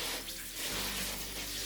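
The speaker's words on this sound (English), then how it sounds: "Next, we're gonna spray some cold water to stop the cooking process." Cold water sprays steadily onto just-cooked noodles in a sink, a close, hissing rush that carries on throughout without any voices.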